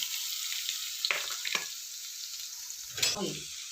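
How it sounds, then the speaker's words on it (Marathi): Onion fries in a pan with a quiet, steady sizzle, broken by a few soft scrapes of stirring. "तर आता हा कांदा मी असा परतून देणार आहे जरा वेळ थोडासा लालसर होऊन द्यायचा"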